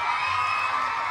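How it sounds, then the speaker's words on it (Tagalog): A pageant audience cheers, whoops and shouts in a steady, dense roar of many voices filling the whole moment, with no pause or lull. "Hindi ako gaganahan kung walang hiyawan."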